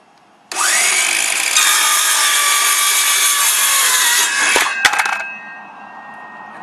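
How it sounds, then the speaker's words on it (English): A power saw cuts a plate lock along its indented cut line in a loud, steady, close whine lasting about four seconds, then a brief clatter as the cut finishes and the motor winds down. "now we're going to make the cut on the indented cut line already on the plate lock"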